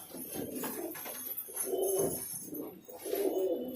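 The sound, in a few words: highflyer pigeons cooing in loft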